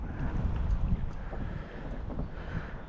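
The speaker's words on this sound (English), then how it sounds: "I can get this wind to calm down just a little bit." Wind gusts across open water during a cold fishing outing on the Yadkin, buffeting the microphone with a steady low roar that swells and eases, with no voices.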